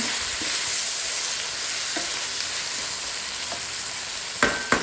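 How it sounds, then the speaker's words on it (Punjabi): Long slices of carrot and potato sizzle in a pan with a steady frying hiss, broken by a few soft scrapes of stirring and two sharper clinks near the end. No one speaks. "ਆਪਾਂ ਆਪਣੇ ਆਲੂ ਜਿਹੜੀਆਂ ਲੰਬੀਆਂ ਲੰਬੀਆਂ ਸਲਾਈਸਸ ਰੱਖੀਆਂ ਨੇ ਮੈਂ ਗਾਜਰ ਤੇ ਆਲੂਆਂ ਦੀਆਂ ਇਹਨਾਂ ਨੂੰ ਚੰਗੀ ਤਰ੍ਹਾਂ ਨਾਲ ਆਪਾਂ ਪਕਾ ਲਾਂਗੇ"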